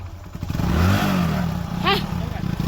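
A motorbike engine idles and revs up close, its low rumble rising and falling while people shout and talk over it.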